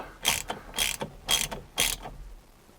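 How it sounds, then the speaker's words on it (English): A ratchet tightens the steering wheel securing bolt on an Audi RS3, four quick close bursts of clicking pawl strokes in a steady rhythm, with no talk. "now it's time to replace the securing bolt for the steering wheel. Pop that in there and tighten that up."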